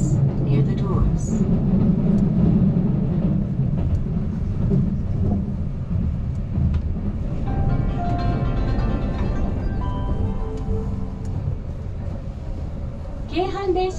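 A Keihan Main Line limited express train rumbles steadily along the track in Japan, with a continuous low roar and rattling, while a voice announcement plays over it.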